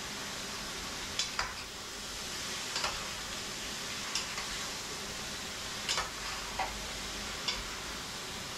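Pork shoulder fries in a pan for igado as it is stirred, producing a soft continuous sizzle with scattered light clicks of the utensil against the pan, fairly quiet and without talk.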